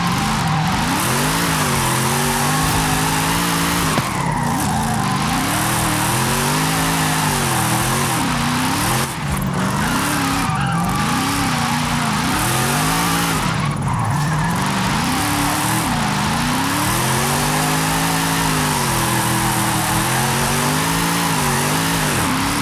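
A drift car in a video game, built for sliding sideways, holds long revving engine notes that rise and fall through gear changes, with tire squeal as it slides at steep angles, loud and continuous throughout.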